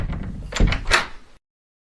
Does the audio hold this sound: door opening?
yes